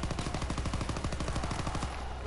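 Rapid, steady automatic gunfire in a Call of Duty zombies video game, loud and continuous bursts with no talking over them.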